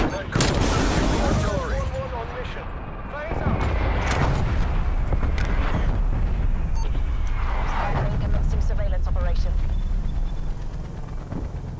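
An artillery strike in Call of Duty: Black Ops Cold War, with repeated heavy booms and explosions rolling over dense battlefield gunfire. A voice speaks among the blasts.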